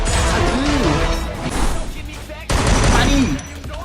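Rapid gunfire bursts in the mobile battle-royale game Free Fire, loud and dense, with a sharp new volley starting midway, layered under excited talking.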